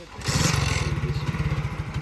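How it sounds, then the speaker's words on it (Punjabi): A five-gear motorcycle engine kicks in and settles into a steady, close, throbbing idle with a rapid pulsing beat. "ਚਲੋ ਮੈਂ ਜਰਾ ਮੋਟਰਸਾਈਕਲ ਸਟਾਰਟ ਕਰ ਲਵਾਂ"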